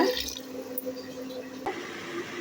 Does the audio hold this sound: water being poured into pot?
yes